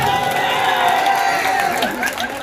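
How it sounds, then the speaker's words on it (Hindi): Crowd at a political rally clapping and cheering, a dense sustained wash of applause with a voice over it, loud and close before slowly easing off. "चाहूंगा इनके लिए जोरदार ताली बजा दो"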